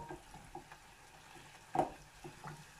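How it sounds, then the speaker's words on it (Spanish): Sugar syrup boiling in a pot for a strawberry bavarois while being stirred, giving a soft, steady bubbling hiss with faint spoon scrapes and one brief louder clink near the middle. "Ya tenemos hirviendo el almíbar."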